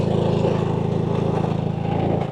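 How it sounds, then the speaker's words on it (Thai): A tractor engine runs in a rural Lao village, loud and close, with a steady, fast chugging putter that holds evenly for the whole short stretch and fades slightly at the end. No one speaks over it. "รถไถ"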